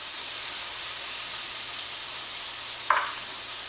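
Browned mushrooms sizzling in a pan as flour is sprinkled in to cook a roux, a steady close hiss throughout with one brief sharper crackle near the end and no voices.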